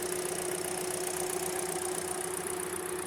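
A Hyundai Elantra engine with a rough-running, surging fault idles steadily at close range, a continuous low mechanical hum with a faint high whine and no voices.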